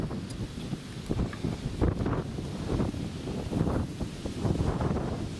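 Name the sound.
wind blowing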